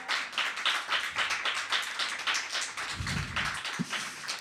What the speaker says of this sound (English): Can we have another round of applause for Carly, please?